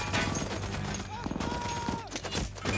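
Rapid MG 42 machine gun bursts in the WWII tank film Fury, a dense battlefield barrage of close gunfire mixed with shouting voices and a rising whistle, with people talking over it.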